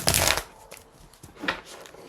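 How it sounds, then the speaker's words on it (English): A tarot deck is shuffled by hand in a few quick riffling bursts, the first strongest, then lighter papery flicks and taps nearby. "Let's give it a little more shuffle, though."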